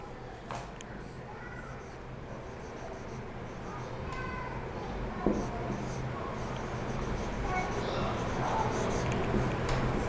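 A pen writes the words "hence proved" for a Class 10 maths triangles proof, giving a continuous scratchy, rubbing stroke sound close-up over about ten seconds, with a few sharper strokes midway.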